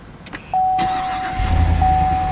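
A 2018 Cadillac Escalade ESV Platinum's 6.2-litre V8 cranks and catches by push-button start, then settles into a steady, deep idle rumble with a faint whine on top.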